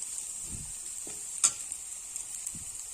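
Bitter gourd slices frying dry in a pan give off a soft, steady sizzle, with a few faint scraping stirs and one sharp clink partway through.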